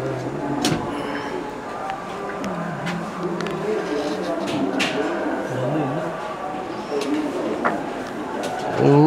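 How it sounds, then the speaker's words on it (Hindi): Salara teddy pigeons, a male and a female, coo low and steadily through a busy outdoor backdrop, with people talking over them. "यही जी सलारे टैडी कबूतर है, इसी नर की मादी है।"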